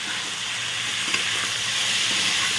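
Boiled, softened noodles and chicken for chow mein with chilli chicken sauté on a high flame, making a loud, continuous close sizzle with faint stirring and no talk.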